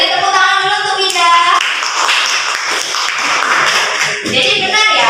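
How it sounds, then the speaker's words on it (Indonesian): Applause from a seventh-grade class during a micro-teaching lesson on classifying matter: a dense burst of clapping fills the middle of the clip, with a voice talking just before and after it. "beri tepuk tangan dulu untuk Wida"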